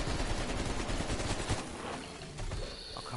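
Rapid gunfire aimed at a zombie in a video game, a dense burst of loud shots in quick succession that thins out after a couple of seconds, with a few scattered shots and noise trailing.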